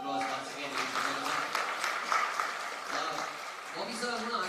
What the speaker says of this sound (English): Let's give Ranbir a big round of applause once again.